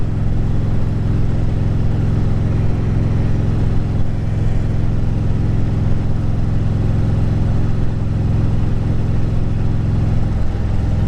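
A 2010 Harley-Davidson Street Glide Ultra rolling along at night, the engine holding a steady, loud low drone with even exhaust thrum and faint wind noise, unchanging across the whole stretch.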